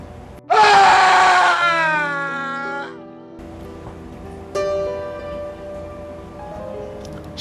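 A woman's loud, drawn-out scream erupts suddenly as a horror-story sound effect, breaking into a wavering cry before fading. Quieter tonal effects and a low eerie drone follow, with no speech.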